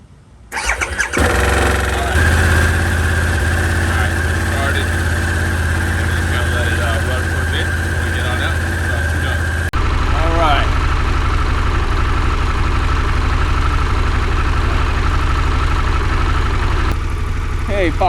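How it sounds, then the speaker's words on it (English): A Harley-Davidson Pan America motorcycle cranks over in cold weather, catches and settles into a steady, loud idle that runs close by for the rest of the stretch, with no speech over it. "All right, might as well get the Harley started. It does not like to start in the cold."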